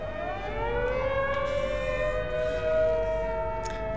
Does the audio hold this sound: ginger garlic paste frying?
no